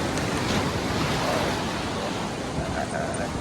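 Rough sea surf churns loudly and continuously at Port Maria, St Mary, a day after heavy rain and flooding, with a broad wash of breaking water and wind noise and no clear talking.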